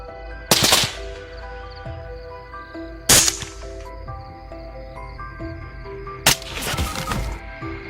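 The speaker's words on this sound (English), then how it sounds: "The continuous gunshots echoed throughout the field" Three loud rifle shots fired at night during a wild boar hunt in an open field, each a sharp close crack with a trailing echo, spaced a few seconds apart over a steady low hum.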